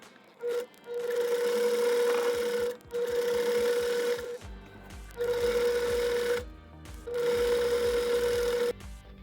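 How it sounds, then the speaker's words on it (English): A sewing machine stitches black polyester bed-sheet strips along a skirt's seam allowance, running in several bursts of steady whirring separated by short pauses, with light handling clatter between runs. "I'm sewing it down along the seam allowance, essentially doing like a Hong Kong style"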